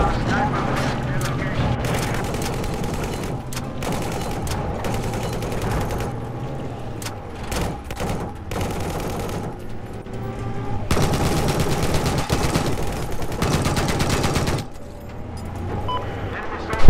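Video game gunfire, with rapid bursts and sustained automatic shooting mixed with engine rumble, loud and continuous throughout, with a player talking over it.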